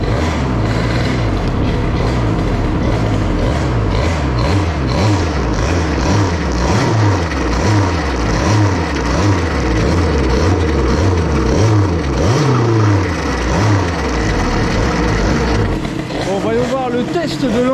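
Moped engine fitted with a test exhaust pipe, revving loudly and continuously up and down through the rev range at close range, buzzing two-stroke tone throughout with a slight drop near the end.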